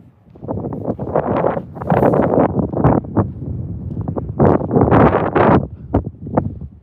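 Strong wind gusts buffet a microphone outdoors at night beside a building, producing loud, continuous low rumbling with surging peaks and no clear voices.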